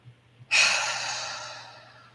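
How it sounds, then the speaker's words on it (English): A single forceful exhale, a sudden loud breath of air that rushes out and slowly tapers off over about a second and a half, close and alone against a faint hum. "Forcefully exhale anything that's been sitting there."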